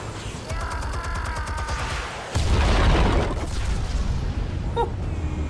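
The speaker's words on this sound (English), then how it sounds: "Explosives armed. Fire when ready." A heavy explosion from armed explosives goes off in Batman: The Telltale Series, a loud low-end blast rolling in at mid-clip over steady game ambience and rumble.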